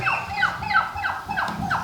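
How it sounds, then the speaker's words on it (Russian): A turkey gobbles close by, a rapid warbling series of yodeling calls repeating several times in quick succession. "Вот это индюк."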